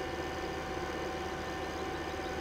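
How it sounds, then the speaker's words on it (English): A tractor engine in the Farming Simulator 15 video game runs at a steady, droning pitch as the vehicle drives fast, a constant mechanical hum with no breaks or talking. "I love how fast this tractor is."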